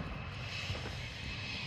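Enemy drone from Call of Duty Modern Warfare 2 flies overhead as a steady, droning aircraft-engine hum that holds at an even level for under two seconds, with no speech.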